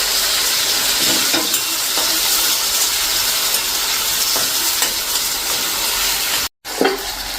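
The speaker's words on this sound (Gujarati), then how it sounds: "હવે આપણે આ ટમેટા જે સમાર્યા છે 2 એ નાખી અને આને આપણે આ રીતે તેલમાં જ કૂક કરી લેશું" Chopped, peeled tomatoes cook in hot oil for a sev-tomato curry. A steady, close sizzle and hiss goes on with soft stirring scrapes, broken by one brief gap near the end.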